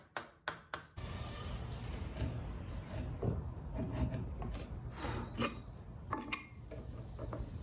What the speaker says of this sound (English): Do a rough cut, come back to your score line, and do a finish cut.